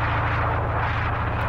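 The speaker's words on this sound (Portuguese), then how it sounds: "Liguei as turbinas." Jet engines of an airplane in BeamNG Drive roar as a steady, dense rumble with a low tonal hum underneath, loud and continuous throughout, with no talking.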